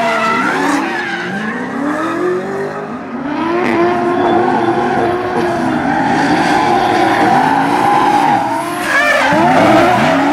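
Drift cars at a D1NZ drifting round in Tauranga, screeching tire squeal and skidding over roaring, revving engines, loud and continuous with sweeping pitch changes.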